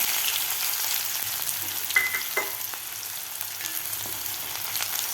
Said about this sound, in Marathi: कांदा आपल्याला दोन मिनिट चांगला परतून घ्यायचा आहे